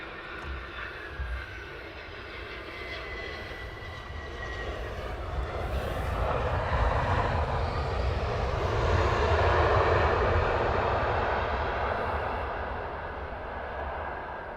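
Airplane arriving at Luton Airport from Amsterdam, a jet engine roar building gradually from faint to loud, peaking midway and easing off, with no voices.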